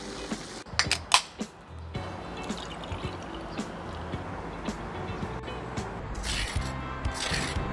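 Double-fried crispy spicy chicken crackling softly in a kitchen, a steady fine rustle with a few louder sharp crunches near the start and a brighter burst toward the end, no talking.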